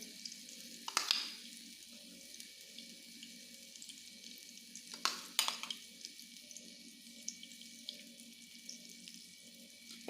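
Pieces of eggplant fry gently in a pan over a low flame, a faint, steady sizzle broken by a few sharp clinks and scrapes of stirring.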